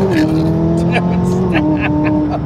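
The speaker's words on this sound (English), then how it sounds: "Oh, but the turbo whine sounds sweet." A tuned McLaren 570S pulls hard under acceleration, its engine note climbing steadily through the gears with a high turbo whine on top. The car sounds loud and close from inside, with people talking over it.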